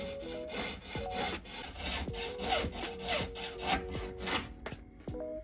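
A fine saw rasps through a gold ring in quick, steady back-and-forth strokes, close and quiet, with no talking.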